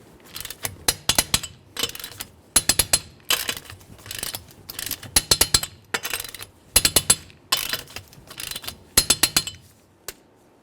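A torque wrench tightens the front wheel lug nuts on a 2012-2018 Nissan Altima to 83 foot-pounds in a crisscross pattern, giving repeated sharp metallic ratcheting clicks in bursts separated by short pauses.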